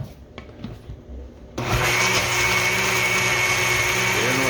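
A kitchen blender switches on and runs steadily, blending pepper for a Jamaican Sunday dinner. A quieter clattering comes first, then the motor roars loud and continuous until the end.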